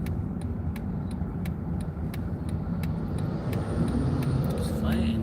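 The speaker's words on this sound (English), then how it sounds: "It's a fire engine." A fire engine drives along a road on a spring day, its low engine and tyre rumble steady at first and then growing louder and closer toward the end, with faint clicks over the top.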